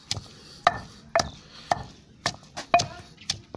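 Spices for a masala being pounded by hand in a village kitchen: about eight sharp, close thumps in a steady rhythm, fairly loud and with no talk.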